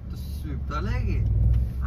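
Road traffic rumbles steadily around a motorbike rider, with a low engine drone and a vehicle passing close by, while someone talks over it.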